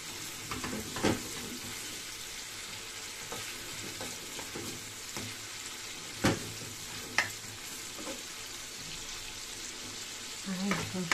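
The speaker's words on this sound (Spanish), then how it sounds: "Ya se está friendo todo, ¿veis? Se hizo todo bien frito." Chicken, rice and garlic fry in a pan with a soft, continuous sizzle, broken by occasional scrapes and knocks of stirring, while a person talks quietly nearby.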